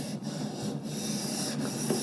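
Hand sanding of body filler on a car panel, a close rasping rub repeated in several back-and-forth strokes with brief pauses between them, no talking.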